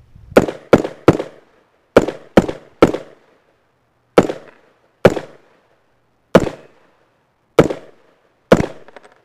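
An AR rifle chambered in .300 BLK, fed from an X-MAG, fires about a dozen loud, sharp, close gunshots, some in quick pairs or triplets and others singly, each separated by silence.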